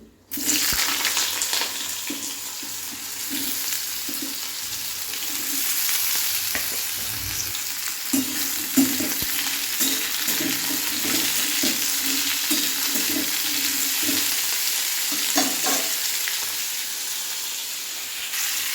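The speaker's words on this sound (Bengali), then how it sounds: "এখানে তেল বসিয়েছি এই আলু ভাজা করবো" Potatoes frying in hot oil on a home Bengali kitchen stove, a steady loud broadband sizzle lasting throughout with intermittent scraping and stirring knocks, no talking.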